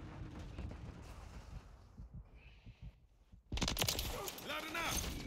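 Gunfire in Call of Duty Modern Warfare III: a quieter stretch of scattered shots and clatter, then a loud burst of rapid automatic fire from about halfway on, with a voice speaking over parts of it.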